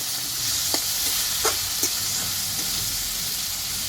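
Spice paste for Bengali mung dal frying in oil that has separated, giving a steady hissing sizzle with a few soft stirring taps, close and fairly loud.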